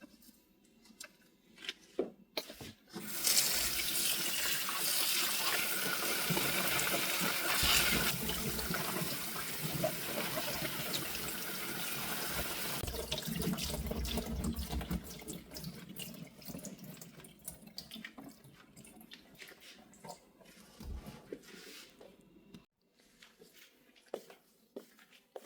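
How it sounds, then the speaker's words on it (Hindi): Kitchen tap water runs hard into a sink while spinach is washed for palak paneer, a steady loud gush for about ten seconds that then thins into softer splashing and handling noises. "सबसे पहले हमने पालक को अच्छे से वॉश कर लिया था"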